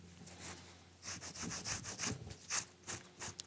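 Excess grout is wiped off a multi-coloured mosaic tile surface. Quiet, rhythmic rubbing and scraping strokes repeat in short bursts, close and alone.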